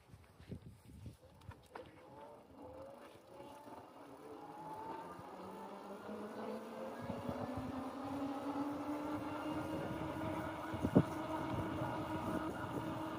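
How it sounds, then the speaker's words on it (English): A OneSport OT16-2 eBike accelerates on throttle alone, its motor whine climbing steadily in pitch and loudness over wind noise, heard up close with no talk. "I'm going to only use my throttle and I won't pedal"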